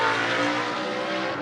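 Brazilian BMW race car driven by former A1 GP and GP2 racer Jimenez during a Blancpain Sprint Series practice session in Moscow, a steady, loud engine roar sustained throughout at close range.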